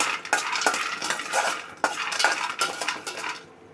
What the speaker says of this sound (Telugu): పల్లీలు వేసుకొని వీటిని డ్రై రోస్ట్ చేసుకుందాము.